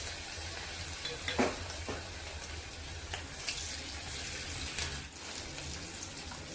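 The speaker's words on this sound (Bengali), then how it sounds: "এরকমভাবে এটাকে মেখে তারপরে এটাকে আমি ফ্রাই করব" Bitter gourd and potato pieces coated with cornflour fry in hot oil, giving a steady, dense sizzle with occasional stirring scrapes and louder bursts. No voices are heard.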